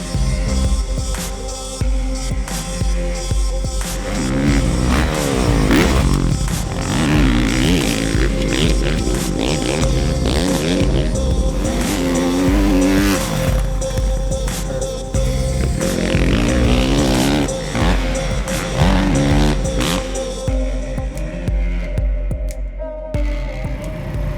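A Honda supercross race motorcycle rides a track with loose, low-traction loops, its engine loud and close throughout, revving and throbbing up and down as it works the throttle.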